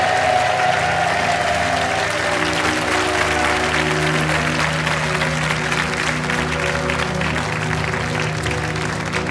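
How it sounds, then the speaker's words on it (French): A game show studio audience applauds as the departing contestants walk off. The clapping is continuous and moderately loud, and sustained musical tones play underneath throughout. "On vous laisse repartir par là sous les applaudissements."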